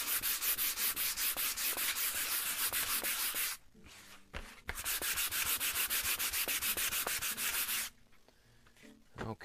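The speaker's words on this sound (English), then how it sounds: "just a quick little rub with the sandpaper" Sandpaper rubs briskly over a canvas primed with clear acrylic gesso, a rapid rhythmic scratching that runs for several seconds, pauses briefly, then resumes close and loud.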